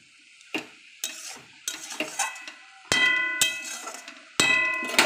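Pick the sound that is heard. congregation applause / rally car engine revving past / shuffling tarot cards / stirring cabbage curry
stirring cabbage curry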